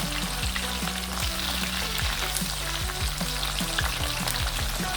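Red snapper, parrotfish and goldfish fry in hot oil for Jamaican fried fish, a constant loud crackling sizzle with occasional knocks as the pieces are turned, and faint music underneath.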